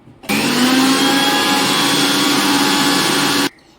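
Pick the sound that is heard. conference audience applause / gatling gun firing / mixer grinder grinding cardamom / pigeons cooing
mixer grinder grinding cardamom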